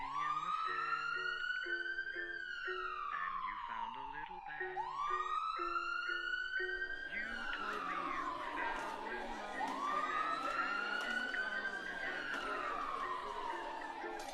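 A wailing emergency siren from the Roblox game Berry Avenue rises and falls in long repeated sweeps, loud and close throughout, with a faint crowd murmur underneath.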